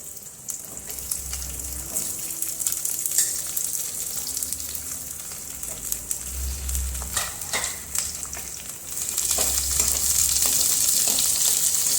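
Onions frying in a pan while arbi and eggplant curry is cooked, a steady close sizzle with occasional stirring scrapes and a louder hiss toward the end, without talk.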